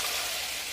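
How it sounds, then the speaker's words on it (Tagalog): Chicken pieces fry in a hot pan, a dense continuous sizzle and crackle held close and loud for under a second, with no voices over it. "Piniprito ko na yung chicken."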